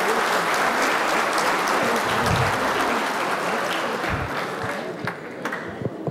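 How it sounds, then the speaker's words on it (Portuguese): Applause from an audience at a special ceremonial session honoring a neighborhood anniversary, dense sustained clapping filling the room and slowly thinning toward the end. "Gostaria, inclusive, de pedir a vocês uma salva de palmas para ela."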